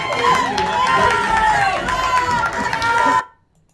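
Crowd at a Bucks NBA 2K League gaming event cheering and shouting loudly and continuously, a mix of voices and chatter that cuts off abruptly near the end.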